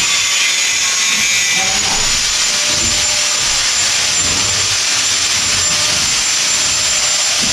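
A power sander works on a ceiling frame during house construction, giving a steady, loud high-pitched whine that runs unbroken throughout.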